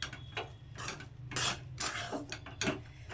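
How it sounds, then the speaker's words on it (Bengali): Rice flour being stirred into water in a pan on low heat for modak dough, a spatula scraping and clinking against the pan in short irregular strokes, close-up and fairly quiet, without speech. "চালের গুঁড়োটা এই জলের মধ্যে অল্প অল্প করে দেবো আর এইভাবে নাড়তে থাকবো আর কি"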